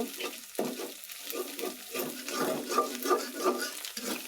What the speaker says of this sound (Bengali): সেখানে ডিম ভুনে নিচ্ছি